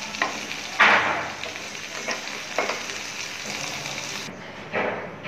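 Two potatoes frying in an oil-filled pan, a continuous sizzle that stays steady throughout, with a few louder bursts as the pieces are stirred or turned.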